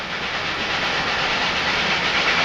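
A passing steam train fills the scene with a loud, steady rushing roar and hiss, the continuous wash of wheels and steam holding close and constant throughout, no voices heard.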